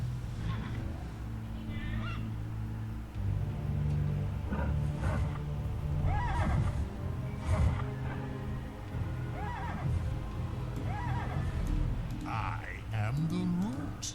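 Horses in the real-time strategy game Battle Realms, several neighs and whinnies rising over busy game ambience with other animal calls, repeated throughout at moderate loudness.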